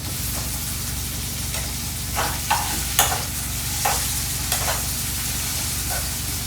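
Ginger garlic paste frying in a pan for a soybean chilli dish: a loud, constant sizzle with several sharp scraping stirs and clanks of a spoon against the pan, and no talking.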